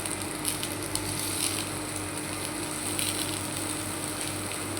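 Chopped onion frying in a hot pan on the stove, with the heat being lowered, gives a steady, close, even sizzle and hiss that runs unbroken for the whole stretch without any voices.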